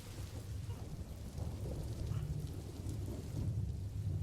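Rain falls steadily in a video game while low thunder rumbles roll underneath, a soft, distant wash of drops with deep swelling rumbles and no voices.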